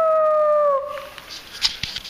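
A puppy lets out a close, loud, wavering howl that slides downward and breaks off after under a second, followed by quiet rustling and a few faint small yips.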